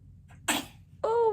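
One person sneezes a single sharp sneeze up close in a quiet room, and a voice follows right after it.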